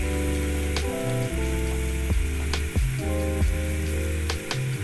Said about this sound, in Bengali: প্রথমে আমি আলু ভাজাগুলো